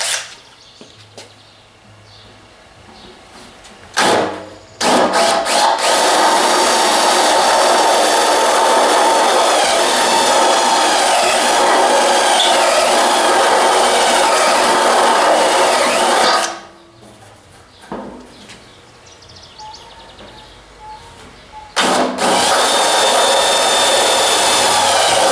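A power drill whines loudly in long continuous runs, drilling a marked half-inch depth on a 1964 Impala wagon's fuel system, stopping briefly twice before starting up again, close and dominant.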